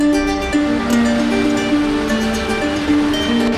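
Mountain stream water rushes along a monsoon trek toward Kedarnath, a steady loud wash of flowing water filling the scene without voices.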